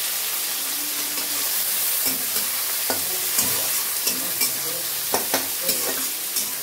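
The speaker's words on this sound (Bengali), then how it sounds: "পেঁয়াজ রসুনটা ভালো করে ভাজা করে নিই" Onion and garlic with panch phoron frying in hot oil, a steady close sizzle with scattered crackles and occasional stirring scrapes of a utensil against the pan, no talk.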